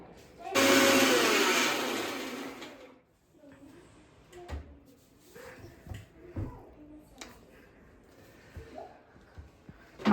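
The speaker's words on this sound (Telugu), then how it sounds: "మా ఆయన మిక్సీకి వేస్తూ ఉన్నాడు." A kitchen mixer grinder blends a puree of tomato, ginger and garlic in one loud whirring burst of a few seconds. Quieter clinks and handling noises follow after it stops.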